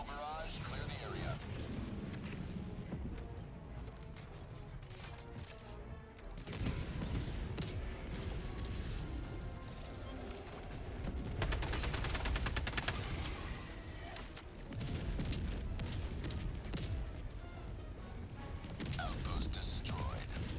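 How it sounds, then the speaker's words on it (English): An orbital barrage strikes in Helldivers 2, heavy explosions and rapid gunfire booming in repeated waves, with voices calling out over the din. "Firing orbital barrage"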